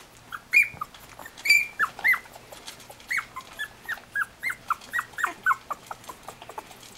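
Three-week-old puppies whimper and yip in a run of short, high-pitched cries, close by and fairly quiet, with a faint steady hum underneath.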